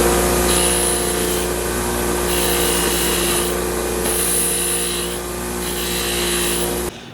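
Power tool lightly polishing a vintage water-damaged knife, a constant whirring hum with a bright hissing layer that swells and fades in repeated passes for several seconds, then cuts off abruptly, no voices.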